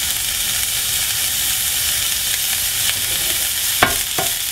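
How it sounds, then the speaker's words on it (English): Sliced ginger sizzles and fries in a pan for a Taiwanese dish, a steady close crackling hiss with a couple of sharp stirring scrapes near the end. "You hear the sizzling sound"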